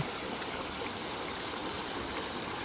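Steady rushing and trickling of a forest stream and waterfall in a mountain jungle, a constant, fairly soft wash of flowing water heard alone.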